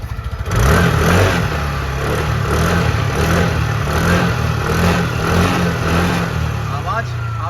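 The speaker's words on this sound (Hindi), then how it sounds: "सबसे पहले मैं आपको इस स्कूटर की आवाज़ सुनाता हूँ कि आवाज़ कैसी है।" A 2024 TVS Jupiter scooter engine runs loud and close, a steady idle with a rhythmic pulsing drone and a brief rev, heard alone without talk.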